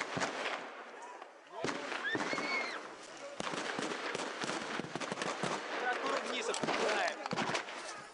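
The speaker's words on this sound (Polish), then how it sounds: "zasypano hukowo-błyskotowymi granatami" Flash-bang stun grenades exploding at a street protest in Minsk in 2010: repeated sharp, loud blasts and crackling bursts spread through the whole stretch, over constant crowd noise with shouting voices.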